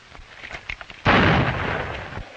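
A single sharp, loud gunshot crack in a 1938 western film erupts after a stretch of quieter rustling and soft bumps, its burst ringing out and trailing off over the next second.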